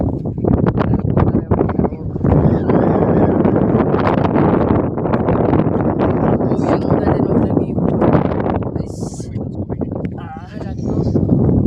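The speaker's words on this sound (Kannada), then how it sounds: "ಗಾಳಿ ಫುಲ್ ಜೋರು ಫ್ರೆಂಡ್ಸ್" Strong wind gusts batter the microphone at a mountain temple, a loud continuous roaring buffet with brief quieter dips, and a voice speaks over it.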